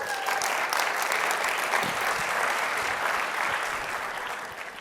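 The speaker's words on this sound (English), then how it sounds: "how about we begin with a round of applause for yourself for showing up" A conference audience at the Hard Rock in Florida claps steadily in a sustained round of applause, dense and even throughout, slowly easing toward the end.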